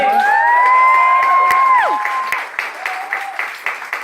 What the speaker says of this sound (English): big round of applause for Laura Empson